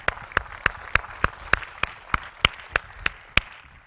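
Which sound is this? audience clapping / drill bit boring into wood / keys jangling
audience clapping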